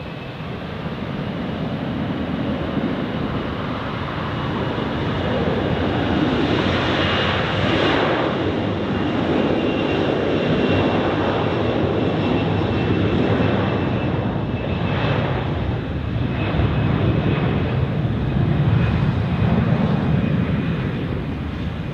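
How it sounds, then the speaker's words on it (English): A Pilatus PC-12 private turboprop airplane takes off at Zurich Airport, its loud, steady engine roar and rushing broadband noise sustained throughout without voices. "We have a little private airplane as it looks. Pilatus PC-12, I'd say."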